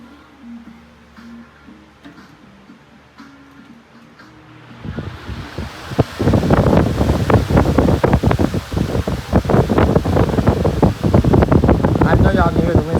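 An electric fan switched to full power roars up after a quiet start, a loud steady rushing of air with buffeting against the microphone, following brief speech at the beginning.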